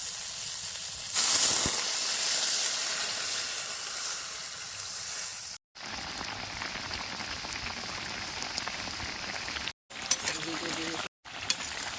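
An eggplant curry with mustard paste boils vigorously in a pan after water has been added, making a dense rushing, rain-like hiss and bubbling, with a voice speaking over it and a few short breaks.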